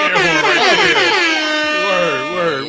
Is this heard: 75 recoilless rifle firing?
no